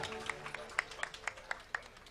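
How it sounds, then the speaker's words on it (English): Scattered audience clapping for the band at a university graduation ceremony, about eight separate claps at an even pace, faint and thin. "Okay, clap for the band"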